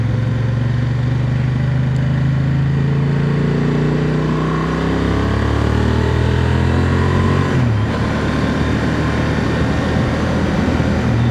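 A 2025 Honda Transalp SP motorcycle engine runs steadily, its pitch rising and falling as it revs, loud and close with no voices.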